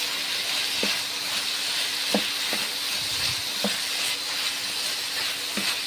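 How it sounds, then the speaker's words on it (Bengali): Flat beans fry in hot oil in a winter vegetable dish, with a continuous bright sizzle and hiss and a few sharp clicks of a spoon against the pan, heard close up and without talk. "সিমগুলোকেও ভেজে নিচ্ছি, সব সবজিগুলোকে আমি 1 মিনিট করে ভেজে নিচ্ছি।"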